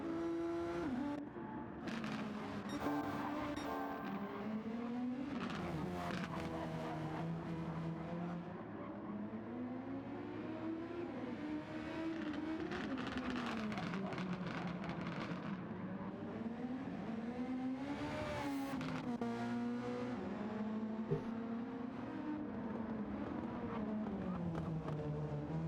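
Race cars lapping the Interlagos circuit in Brazil, engines droning and revving continuously with pitch rising and falling through gear changes as cars pass, steady and fairly close, with a commentator talking over them.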